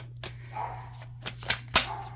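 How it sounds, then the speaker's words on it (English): A dog barks several times in the distance, sharp and irregular, over a steady low hum and faint rustling. "Don't know what that dog is barking about"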